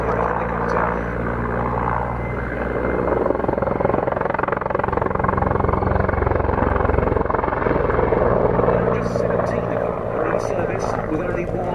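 A Czech Air Force helicopter from the 221st Helicopter Squadron in flight, its loud, steady rotor and engine drone continuing without a break for the whole stretch.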